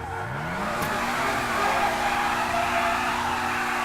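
A car skids under handbrake and brakes in Grand Theft Auto V, engine tone falling as tires squeal in a long continuous screech, loud and close.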